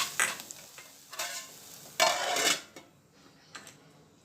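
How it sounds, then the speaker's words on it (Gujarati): Cumin seeds sizzle in hot oil in a pan as tempering for jeera rice. Short crackling bursts come with the scrape and clink of stirring, close and fairly loud, with a quieter tail. "હું વઘાર પણ કરી દઈશ જીરાનો ભાતમાં"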